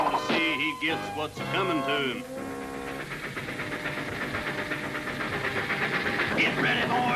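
A steam train rolls into a station in a Lucky Luke cartoon, a steady chugging and hissing rumble that carries on throughout, with brief whistle-like tones near the start.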